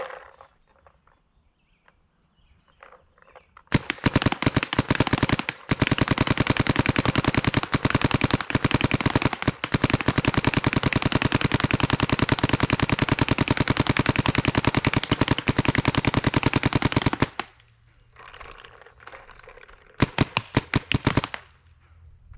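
Planet Eclipse Geo 3.5 paintball marker set to 10.5 NXL ramping, firing long rapid-fire bursts: a few isolated pops, then a sustained dense stream of shots for about thirteen seconds, followed by short trailing bursts, loud and close.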